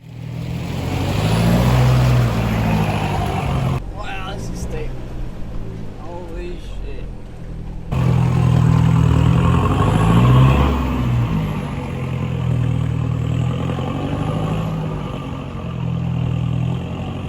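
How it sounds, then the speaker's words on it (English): A 4x4 crawls uphill in first gear on a forest track, its engine a loud, steady low drone close by. Mid-clip it briefly drops away before returning. Someone talks over it. "I'm gonna go first gear and just try and crawl up it"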